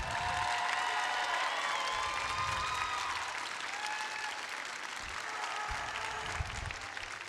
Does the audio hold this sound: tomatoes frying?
no